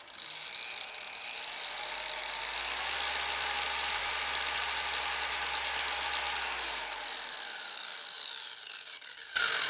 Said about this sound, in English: lift the polisher up just above it,